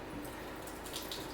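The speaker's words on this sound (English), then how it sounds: "Okay, so I'm just gonna slowly pour this over." Blended chunky wellness-shot juice poured slowly over a strainer, a soft continuous trickle and splash of liquid, quiet and close, with no talking.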